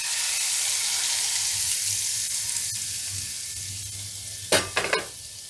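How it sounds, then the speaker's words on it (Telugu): Garlic and tamarind pickle mixture dropped into hot tempering oil, giving a continuous broad sizzle that gradually eases, followed near the end by a few distinct scraping knocks of stirring against the pan. "పోపు తర్వాత ఇది కూడా వేసేస్తాం"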